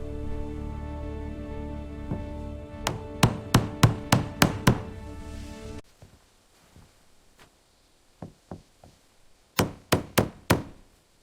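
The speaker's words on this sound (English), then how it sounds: "Splitting and shaping planks, keeping the thickness consistent." Wooden planks are split and shaped by hand at a jungle treehouse build, giving a burst of sharp, evenly spaced chopping knocks, a quieter pause with softer taps, then another quick run of loud strikes.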